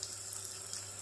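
Water pours steadily in a light, continuous stream into a pan while egg chilli cooks with tomato and curry leaves, close and fairly quiet over a low kitchen hum.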